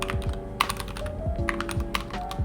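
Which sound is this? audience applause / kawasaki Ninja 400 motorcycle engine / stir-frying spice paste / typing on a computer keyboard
typing on a computer keyboard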